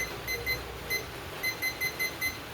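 A kitchen timer set for 15 minutes beeps in short, high electronic pips, some in quick pairs, at an irregular pace, close and clear over a faint room hum.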